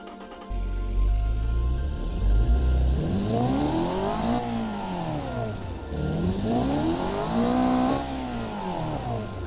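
Custom supercar engine in the BeamNG.drive game revving repeatedly, loud sweeping rises and falls in pitch in a steady rhythm of several throttle blips, close and alone.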